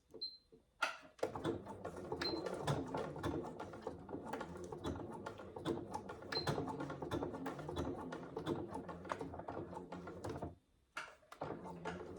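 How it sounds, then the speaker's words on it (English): Sewing machine backstitching at the corners of a fabric rectangle for a saddle bag, a rapid mechanical clatter running in bursts with brief pauses and a short stop near the end, close and fairly quiet. "make sure you backstitch when you reach every corner of your rectangle, just to double secure the stitches"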